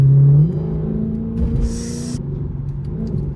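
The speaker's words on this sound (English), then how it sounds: "Maybe you guys can hear the exhaust better." A Mercedes-AMG C63 W204 rumbles from inside the cabin on the road, a deep steady engine and exhaust drone with a short airy hiss partway through.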